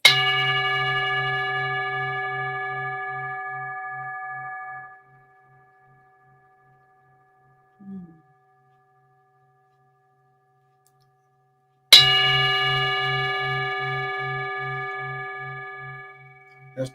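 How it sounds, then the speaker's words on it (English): A dinner bell is rung twice, about twelve seconds apart. Each strike gives a loud, bright metallic clang that rings on and fades slowly, with silence between the two strikes. "That's the dinner bell."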